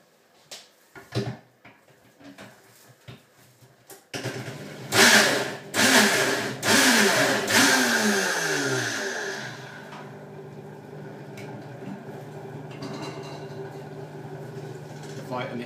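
A Vitamix blender whirs through a salad dressing: a few light clatters, then a loud, surging motor run of several seconds with a shifting pitch that settles into a quieter, steady hum.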